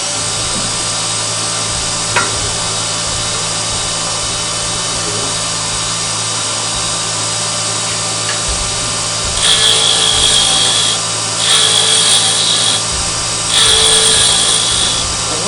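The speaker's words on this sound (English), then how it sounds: "with the parting tool, we'll start creating a tenon" A parting tool cuts a half-inch tenon on a wood lathe. A steady, broad whirring scrape runs throughout, with three harsher, brighter cutting bursts near the end.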